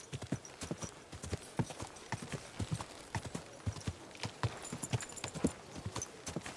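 Horse hooves clip-clop at a steady walking pace in the video game Kingdom Come: Deliverance 2, a continuous run of crisp, close, evenly spaced hoofbeats over a quiet background.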